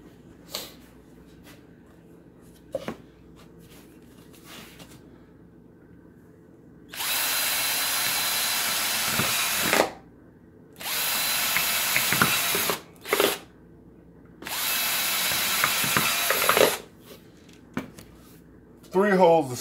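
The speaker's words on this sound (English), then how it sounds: "start drilling and get these holes done" A power drill whines in several long bursts drilling holes in plastic cups, separated by pauses and short clicks and taps, loud and close, with brief quiet gaps between.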